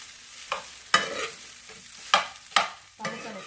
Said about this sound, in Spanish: Vamos a mezclar todo bien